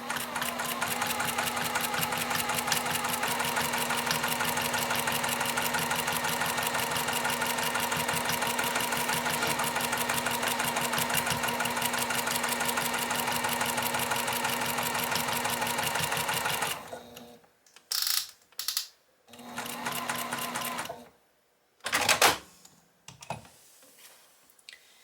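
A sewing machine stitches quilting lines through a fabric block in a rapid, steady mechanical patter for about seventeen seconds, then runs in short stop-start bursts, close and clear.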